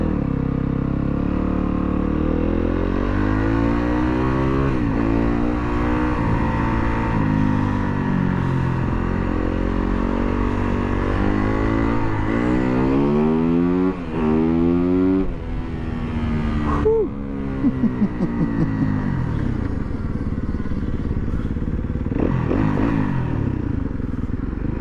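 A 2019 Yamaha WR250F dirt bike on a ride, its engine climbing and falling in pitch through repeated revs and gear changes, close and continuous with some clatter and scraping.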